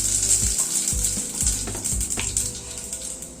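Radhuni spice seeds tempered in hot oil for a bitter gourd dish, a lively close crackle and sizzle with occasional light clinks and stirring sounds, no talking.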